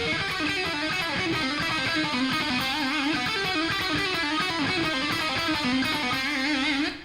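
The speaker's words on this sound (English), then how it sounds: "You can do more pull-offs if you want to, which sound kind of like this" Distorted electric guitar solo lick built on fast pull-offs, a continuous rapid stream of legato notes played loud and alone without a break.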